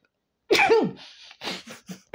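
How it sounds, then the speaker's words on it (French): A single sharp sneeze bursts out loud and close, followed by a soft sniffle and a couple of faint breathy sounds in a quiet room. "J'ai envie d'éternuer, excusez-moi."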